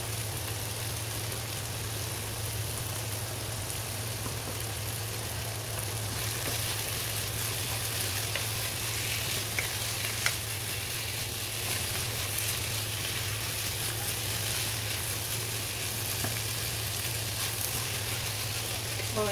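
Sliced hotdog frying in a pan for Filipino creamy chicken sopas makes a constant, even sizzling hiss with a low background hum, steady throughout with no talking.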